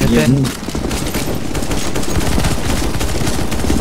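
Rapid bursts of gunfire from CS:GO Zombie Escape ring out steadily and loud for several seconds, with dense overlapping shots, after a short voice near the start.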